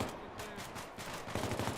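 Distant automatic gunfire from supporting troops in a squad-level military shooter game, a short run of muffled rattling shots with a heavier burst near the end.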